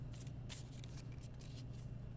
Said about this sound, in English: I don't know why I'm still shuffling those.